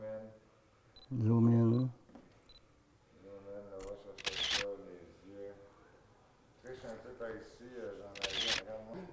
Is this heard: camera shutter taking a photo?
yes